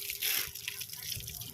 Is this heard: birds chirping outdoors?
no